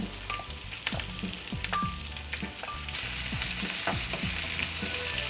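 Steady sizzling of food frying in a hot pan, broken by repeated scraping clinks of a utensil stirring, close and continuous.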